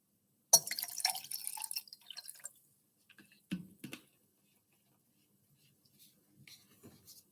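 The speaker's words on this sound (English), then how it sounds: "And then we could just add some water, distilled water." Distilled water poured onto sodium sulfite in a chemistry classroom gives a short splashing trickle, followed by a few faint drips and small clinks, close and quiet against near silence.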